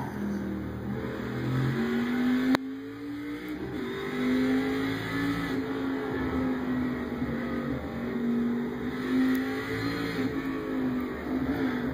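A race car engine drones steadily through a lap in a sim-racing video game, holding a loud, fairly even pitch with small rises and dips as it accelerates and shifts, close and alone with no talk.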